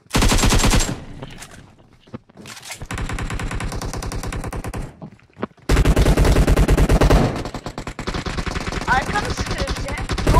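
Rapid automatic gunfire from an online shooter game rattles in loud bursts separated by short pauses, with sustained volleys later on and players chatting over the shooting.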